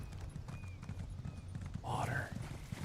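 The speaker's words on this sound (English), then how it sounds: "My horse is so freaking fast" Fast hoofbeats of a galloping horse in Elder Scrolls Online keep a steady rhythm under game sounds, and near the end a short whinny-like cry cuts through.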